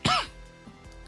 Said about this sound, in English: Keeping my cough in the video there